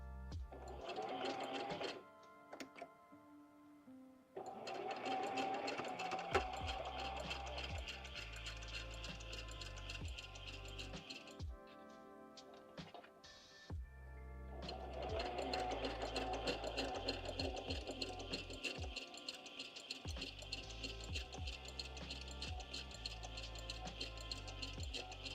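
A sewing machine runs in long steady bursts while back stitching through slippery layers of a junk journal, stopping briefly between runs, loud and close, with a motor hum and rapid needle rhythm.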